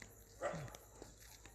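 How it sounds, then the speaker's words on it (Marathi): A single dog barks once on a dark night near a large river and forest, a short, fairly distant yelp over quiet background hiss. "इकडे कुत्रा भोगतोय"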